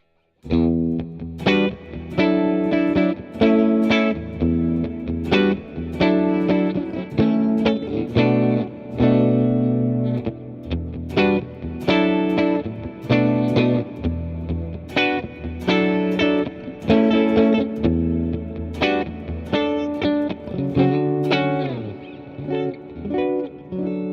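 An electric guitar played through distortion, chorus and reverb rings out in loud chords and riffs, strummed phrases with brief gaps and sustained notes running throughout.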